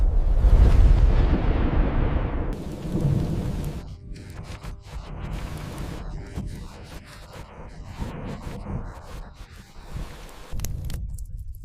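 Violent storm with rolling thunder and heavy rain, a deep loud rumble at the start easing into steady rain with further low crashes, no talk.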